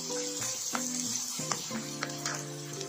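Tomatoes added to ginger and garlic frying in a pan for chicken kofta, a soft steady sizzle with a few light clinks and stirring knocks, fairly quiet and without talk.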